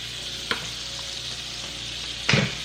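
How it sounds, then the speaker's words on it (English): Butter and olive oil sizzling in a pan for pan searing, a steady bright frying hiss with two sharper crackling spits, one early and a louder one near the end, heard alone. "So what I'm doing is called pan searing."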